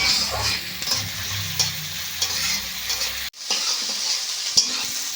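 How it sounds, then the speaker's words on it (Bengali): Onions fry in oil in a pan while being stirred, a close, continuous sizzle broken by scraping and clattering of the spoon, with a brief sharp cut partway through. "এগুলো ভালো করে বেশ নেড়ে ছেড়ে ভেজে নেব একটু লাল লাল করে ভেজে নেব"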